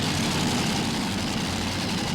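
A 526 cubic inch blown Chevrolet engine in an Unlimited class pulling tractor roars at a sustained, dense, loud pitch throughout, a continuous heavy mechanical drone with no talk over it.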